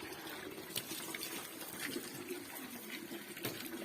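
Water trickles and splashes steadily and fairly quietly, a continuous low pour with small spatters, no voices.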